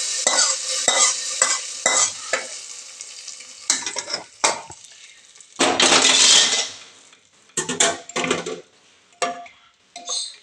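Mustard seeds and dried red chilies fry in hot oil for a Kerala tapioca stew, with bursts of sizzling and crackling broken up by metal stirring and scraping against the pan, close up and without talk.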